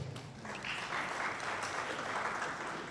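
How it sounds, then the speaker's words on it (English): Applause from the audience at an association's annual general meeting, a steady broadband clatter of clapping filling the room for about three seconds with no voices over it. "you should give yourself a round of applause"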